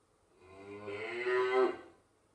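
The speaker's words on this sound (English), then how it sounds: "Cow." A single long, low cow moo swells up and fades away, close and clear with no other sounds.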